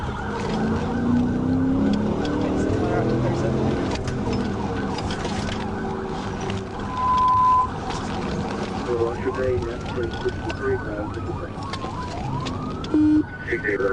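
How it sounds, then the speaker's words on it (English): A state trooper's police siren wails through a high speed chase on a highway, its rising and falling sweeps heard under continuous radio chatter and road noise inside the car. "When Trooper Permenter sounded her siren, the driver accelerated out of the lot"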